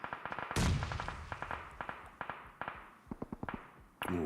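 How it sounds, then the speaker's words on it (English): Gunfire in PUBG Mobile at a global championship match crackles in a rapid series of sharp single shots, with one heavier blast early and another near the end, some close and some more distant. "Ooh, a couple of pot shots."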